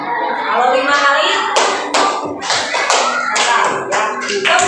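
Hands clap in quick groups of sharp, close claps during an individual guidance session, with a voice talking over them.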